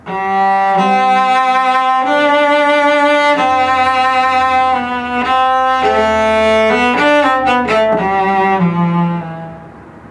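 A solo cello plays a slow, smooth phrase from the first movement of Bréval's Sonata in C Major, sustained bowed notes, rich and close, without trills or grace notes, the final note fading out.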